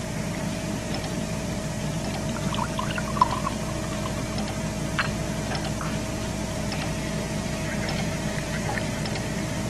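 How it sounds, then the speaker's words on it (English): Milk is poured into yogurt in a laboratory beaker, a faint liquid trickle over a steady background hum. "pour the milk into the yogurt that I have in this beaker"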